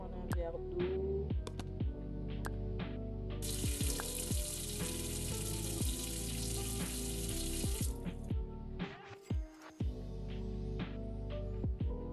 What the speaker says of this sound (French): on va prendre un verre d'eau